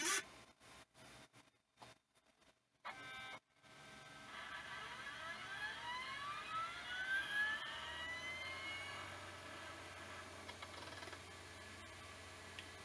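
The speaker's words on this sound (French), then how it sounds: "je vais vous laisser entendre le magnifique bruit que font ces lecteurs iOmega Jazz" An Iomega Jaz removable disk drive spinning up: a few clicks, then a rising whine that sweeps upward in pitch and settles into a steady hum, close and fairly quiet.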